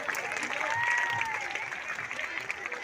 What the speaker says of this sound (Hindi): जोरदार तालियां बजाएंगे तमाम बच्चे।